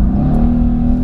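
An AMG car engine revs while driving, a loud close low rumble with a steady droning tone over the short burst.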